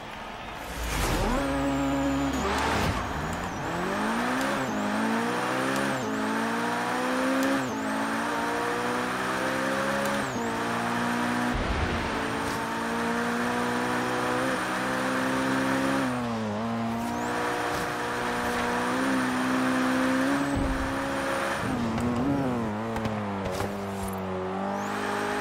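An Abarth Fiat 131 rally car in Forza Horizon 3 races with its engine revving hard and continuously, pitch climbing and dropping through repeated gear shifts, loud and close, with occasional tire squeal.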